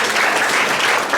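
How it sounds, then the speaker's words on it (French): A church congregation claps and cheers during a worship service, dense continuous applause filling the moment. "Acclamons pour le Saint-Esprit."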